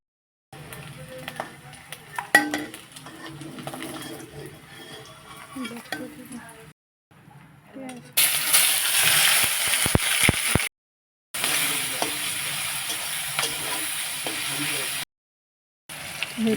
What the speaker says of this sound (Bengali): তারপর ডিমগুলিকে লাল লাল করে ভেজে নিলাম।